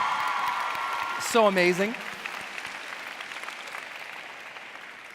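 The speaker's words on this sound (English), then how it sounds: "Would you give a round of applause for all the speakers who you've seen, all the kids, everyone?" Applause from an event audience at a future medical leaders congress, a steady crowd clatter running through the whole stretch under a brief spoken exclamation.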